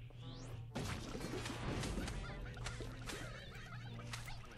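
Chicken squawks and clucks from the Android game Plants vs. Zombies mix with thuds and crashing impacts, busy and cluttered over a low steady hum.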